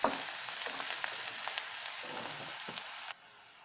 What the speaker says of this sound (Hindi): हमने जो प्याज ली है वो डालेंगे। और इसे हमें ब्राउन होने तक भूनना है।